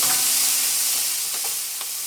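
Onion and leeks fry in a pot for a fish bouillabaisse-style stew, producing a loud, dense, continuous sizzle with a few soft stirring knocks, close and steady, with no talk.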